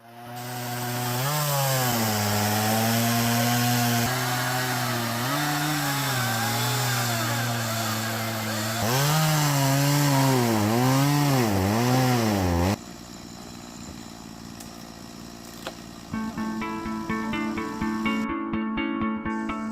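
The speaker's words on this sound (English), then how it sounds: "anytime you get 2 chainsaws out, you might as well get out the camera" Two chainsaws whine loudly and close, their pitch bogging and surging as they bite into the remnants of a fallen tree, then the sound shifts to a lighter, choppier cutting.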